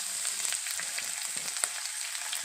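Beans sizzle in a hot pan while cooking rice noodles, a steady close frying hiss with light crackles and one sharper pop, and no voices.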